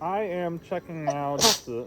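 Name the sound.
sneeze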